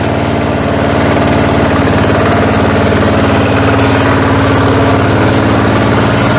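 A Weima walk-behind tractor's engine running in low first gear, loud, close and steady, with a rough rhythmic chug and vibration that holds without a break.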